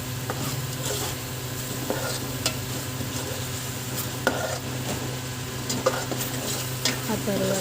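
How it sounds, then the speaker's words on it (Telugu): Masala for chepala pulusu, a fish curry, is stirred and fried in a pan. A steady low sizzle runs under repeated spatula scrapes and a few sharp metallic clinks. "ఇదంతా బాగా మిక్స్ చేయాలి, బాగా ఫ్రై చేయాలి."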